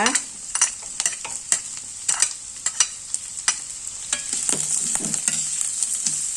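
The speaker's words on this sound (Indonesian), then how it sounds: "Tumis juga supaya harum dan layu" Garlic and onion sauté in a hot pan with a bright, steady sizzle close up, punctuated by repeated spatula scrapes and taps in an uneven rhythm, with no voices.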